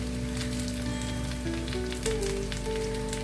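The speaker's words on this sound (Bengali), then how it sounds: "একসঙ্গে কষে নিলাম।" Crab curry ingredients with potatoes and curry leaves sautéing in a pan give a steady, close sizzle and crackle of frying oil, continuous and without talk.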